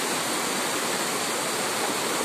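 A flooded river behind a house, swollen after a night of heavy rain, gives a steady, loud broadband rush of churning water that runs without a break and has no voices over it.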